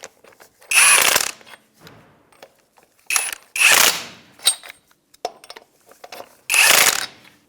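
A ratchet snugs lug nuts on a 1992-1996 Ford F-150 wheel in several loud, close bursts of rapid clicking separated by short pauses and small tool handling noises.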